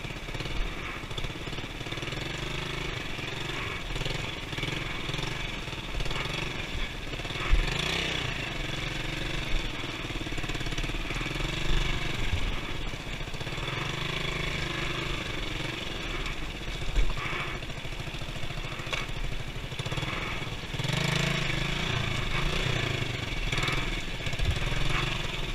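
A motorcycle on the BR-319 road in Amazonas, Brazil, runs steadily at close range while being pushed, its engine holding a continuous idle-like drone with a few louder surges.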